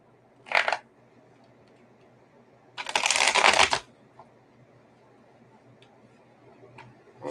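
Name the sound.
shuffling tarot cards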